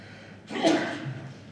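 A single short, breathy sneeze bursts out in a quiet council meeting room, moderately close and alone, then trails into faint room noise.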